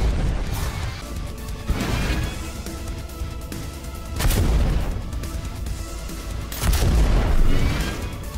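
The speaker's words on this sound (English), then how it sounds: "the explosions from your rocket jumps is great as well" Rocket-jump explosions in a video game land as three booming blasts a few seconds apart, each a loud crashing burst with a rumbling tail over continuous game background sound.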